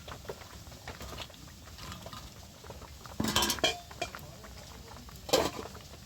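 Fried fish dropped into a cooking pan with slit green chillies for a spicy fish curry with potatoes, giving a couple of brief metallic clatters and clinks over a low background sizzle, no speech.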